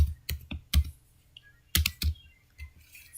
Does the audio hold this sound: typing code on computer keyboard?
yes